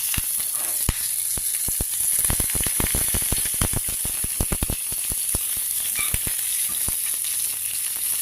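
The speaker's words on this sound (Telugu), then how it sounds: "పోపు వేగించి కొద్దిగా ఇంగువ" A tempering of urad dal, cumin, mustard seeds, dried red chilli, curry leaves and asafoetida fries in hot oil, giving a close, steady sizzle broken by many sharp crackles and pops as the seeds burst.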